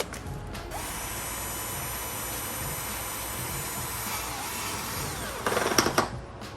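A power tool bolting a Maxton Design front lip onto a B8 Audi S5 bumper, a long, steady mechanical whir close by, then a short burst of louder ratcheting at the end.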